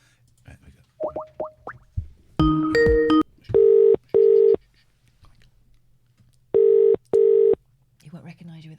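A telephone dials a UK shop number: short blips and a cluster of dialing tones, then two pairs of steady ringing tones separated by silence, clear and close.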